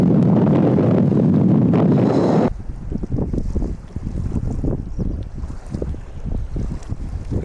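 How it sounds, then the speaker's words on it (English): Strong wind buffets an outdoor vlogging camera microphone, a loud roaring rumble for the first two and a half seconds, then dropping to uneven gusty thumps and flutter for the rest. "It is very windy. I really hope the audio is coming through."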